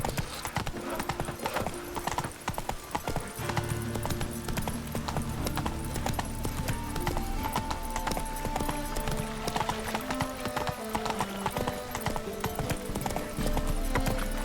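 A horse trots in the video game The Witcher 3: Wild Hunt, its hooves clip-clopping in a steady, brisk rhythm from start to finish, close and clear over faint game background sound.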